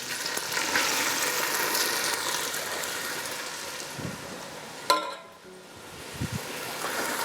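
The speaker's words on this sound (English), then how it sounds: "you want to hear a nice sizzle because you want to get these mushrooms really nice and crispy" Steady crackling sizzle of mushrooms frying in hot oil, close and continuous, with a brief clatter partway through.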